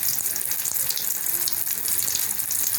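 Batter-dipped okra deep-frying in plenty of hot oil in a wok on a gas stove, a steady, loud hissing sizzle with no talk.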